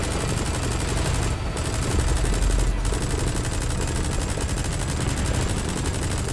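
Bursts of automatic gunfire from enemies shooting at a helicopter in the Metal Gear Solid 5 video game, rapid rattling shots over a constant rotor drone, loudest near the middle.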